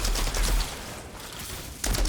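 Rapid automatic gunfire from a level 4 gun in Outriders, with a loud burst at the start, a quieter lull of distant shots, then another close burst at the end.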